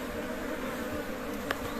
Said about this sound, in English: Oh, that's a lot of bees.